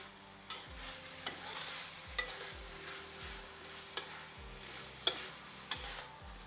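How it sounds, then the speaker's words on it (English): Julienned carrots fry in a pan while being stirred, with a steady quiet sizzle and regular soft scraping strokes about once a second, close and unaccompanied by talk. "Stir that around for a while"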